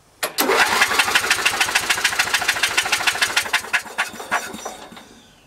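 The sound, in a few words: Briggs & Stratton 13HP lawn mower engine cranking over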